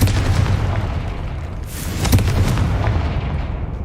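Confringo fire spell explosions in the Hogwarts Legacy video game, heard as loud, dense booming blasts with rumbling low end and crackling bursts, several impacts overlapping continuously across the whole stretch.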